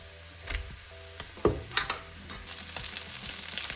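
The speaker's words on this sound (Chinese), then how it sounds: "咱们将咖喱和米饭翻炒均匀以后" Scattered metallic scrapes and taps of a spatula in a wok while curry is stir-fried with leftover rice, irregular clinks over a faint sizzle, quiet and close with no talk.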